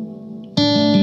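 A plate reverb setting on an effects unit, with decay and blend turned up, blooms into a loud, sustained, bright wash of tone after a quiet half-second, holding steady to the end.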